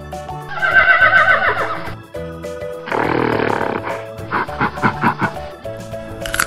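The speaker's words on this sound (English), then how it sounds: "Horse." A horse neighs loudly and close in two long shrill whinnies with snorting bursts between them, followed by a few shorter breathy calls.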